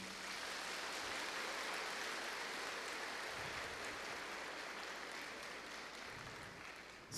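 A congregation in São Miguel Cathedral applauds during a dedication Mass, a faint, distant, even wash of clapping that holds steady and tapers slightly at the end.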